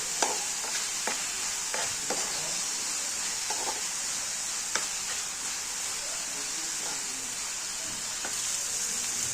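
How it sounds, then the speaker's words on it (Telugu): Quiet sizzling of curry with curry leaves frying in a pan on low flame, with occasional scrapes and taps of a spoon stirring, steady and fairly soft. "సిమ్లో పెట్టుకొని అయితే బాగా ఫ్రై చేసుకోవాలి ఇదంతా"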